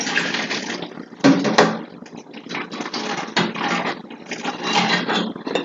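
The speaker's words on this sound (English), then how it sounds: "I'm gonna go ahead and take this excess water and pour it off over here in the sink" Leftover hot water from boiling eggs is poured off from a pot into a kitchen sink, a steady close splashing with uneven surges.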